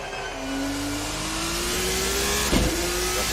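Formula Cup race car at Imola accelerating, the engine note climbing steadily and loud, with a short sharp clunk near the end.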